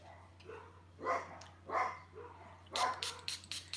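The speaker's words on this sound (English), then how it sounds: "they've got their dogs out, the dogs are all going crazy" Several dogs bark outdoors in excited, irregular bursts, heard from a moderate distance over a steady low hum.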